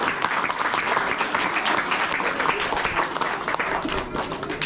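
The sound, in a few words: audience applause for Burns and McDonalds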